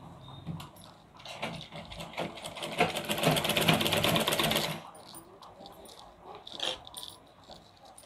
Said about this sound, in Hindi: ये थोड़ा सा आगे बढ़ा के सिलाई कर रही हूँ